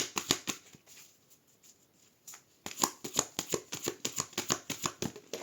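A deck of tarot-style cards is shuffled by hand in two bursts of quick riffling, close and crisp, with a short lull between.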